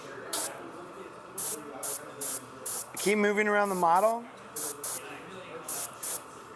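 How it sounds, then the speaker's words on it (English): An airbrush sprays paint onto a model in short, evenly spaced hissing bursts, with a pause in the spraying while a voice speaks over a steady background. "So now we start spraying even more."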